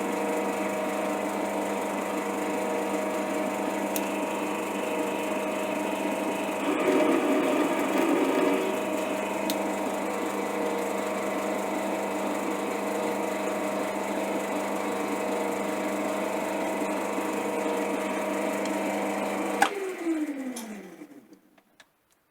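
A metal lathe hums steadily while cutting a 1/4-19 BSP thread with a die, a continuous tonal whir with a rougher patch midway, then the machine winds down and falls silent near the end.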